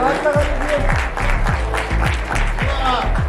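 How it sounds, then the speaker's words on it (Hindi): Audience at a poetry gathering and award ceremony clapping for a poet, brief loud applause under an amplified voice talking through it. "एक बार जोरदार तालियां जावेद जी के लिए"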